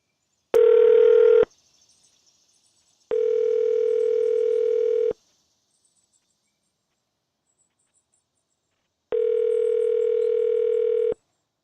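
Phone ringback tone on an outgoing call: three long steady electronic tone bursts, loud and close, separated by silent gaps, with no voices.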